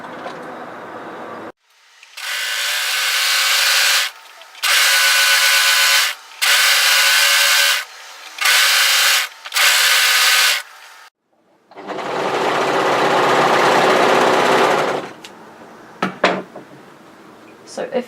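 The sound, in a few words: overlocker sewing along a raw fabric edge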